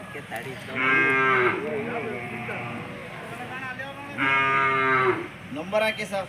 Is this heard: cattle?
yes